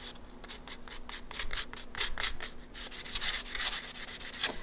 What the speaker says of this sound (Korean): 얘는 요 글씨가 올록볼록한 거를 제가 샌딩으로 조금 벗겨낼 거예요.